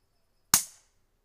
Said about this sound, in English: This is an empty shot without a pellet.